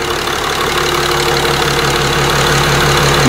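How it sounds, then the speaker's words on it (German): A Mercedes S-Class 320 CDI diesel, just rebuilt, idles steadily and close by, its even low hum and fine mechanical clatter continuing without a break. "Schaut mal, so geil läuft dieser Motor jetzt."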